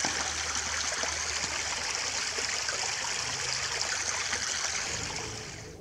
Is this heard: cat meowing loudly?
no